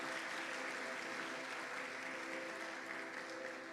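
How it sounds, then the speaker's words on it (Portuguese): A church congregation applauds during a sermon, a steady wash of many hands clapping together that carries on at an even level throughout. "Pode aplaudir o Senhor, meu amado,"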